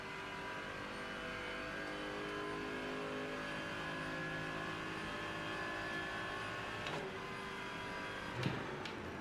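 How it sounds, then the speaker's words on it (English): Mercedes GT3 race car engine from the Rennsport racing game, a steady loud drone of revs with shifting harmonic tones, a brief click-like burst near the end, no talking. "I think the Mercedes is the best sounding GT3 car as well."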